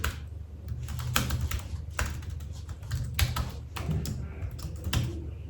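Computer keyboard typing runs steadily in quick, uneven bursts of close, crisp keystrokes, with no speech over it.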